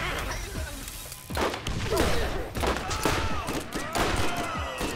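Pistol gunfire in the video game Borderlands, a series of sharp shots mixed into a busy, dense game soundscape with impacts and crashes, fairly loud throughout.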